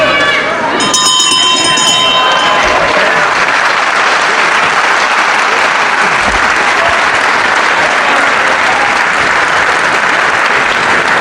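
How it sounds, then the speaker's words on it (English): In a televised professional wrestling bout, a ring bell clangs briefly at the round's end, then loud crowd applause and cheering carry on steadily while a commentator talks over it. "The bell will save him."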